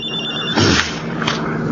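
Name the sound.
cellphone ringing in radio drama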